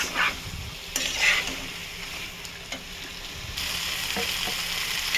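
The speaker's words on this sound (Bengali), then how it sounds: "এবার হাই ফ্লেম করে একটু ভালো করে কষি" Mutton curry sizzles and crackles in a pan over high flame, with irregular stirring scrapes and splutters, fairly close and steady, with no voices.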